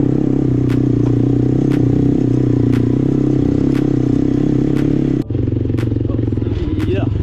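A motorbike rides an off-road track in the hills, its engine droning steadily and close with rattles and clatter over rough ground, and the tone shifts near the end as the ride changes.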